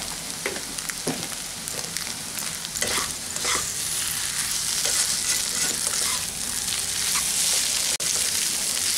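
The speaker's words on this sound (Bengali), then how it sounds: "এখন এটাকে প্রায় 5-6 মিনিট ধরে খুব ভালো করে ফ্রাই করব।" Egg and potato fry in a pan for a Bengali dim alu vaja, a continuous close sizzle broken by irregular scraping and stirring sounds, with no talking.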